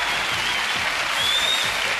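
Studio audience of a 1996 Spanish summer TV game show applauds two contestants, a steady dense wash of clapping with no speech over it across two seconds.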